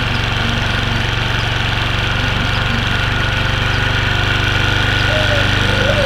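A Yamaha MX motorcycle engine idles steadily and loudly up close during carburetor adjustment, with a constant low rumble and no pauses; speech can be heard faintly over it.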